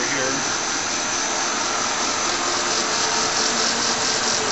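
A Monarch 10EE lathe runs in gear with a steady, loud, unbroken mechanical whir that holds level from start to finish.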